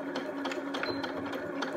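A sewing machine runs a thin seam on knicker fabric from a home sewing kit, making a brief, steady, rapid mechanical whir with even stitching clicks, close and moderately quiet, with no voices.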